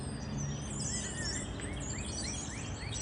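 Birds chirp outdoors in quick, high, scattered calls, fairly faint over a steady background drone of insects.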